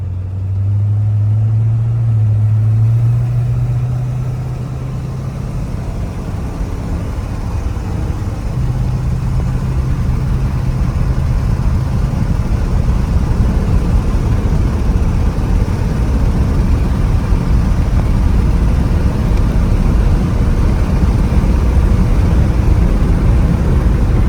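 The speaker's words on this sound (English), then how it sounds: "Truck really runs and drives good, shifts through all the gears good." A 1972 Chevrolet C10 pickup with a 350 V8 drives along, its engine droning loud and steady with a pitch shift early on as it changes gear, then a continuous low rumble and road noise, no voices.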